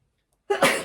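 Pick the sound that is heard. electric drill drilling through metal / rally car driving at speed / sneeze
sneeze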